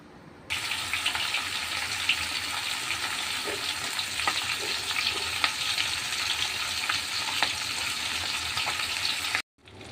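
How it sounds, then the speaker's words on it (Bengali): Sea fish fries in oil in a pan, a dense steady hiss that starts abruptly, runs unbroken for several seconds with small crackles, then cuts off sharply near the end. "মাছ ভাজা হয়ে গেছে।"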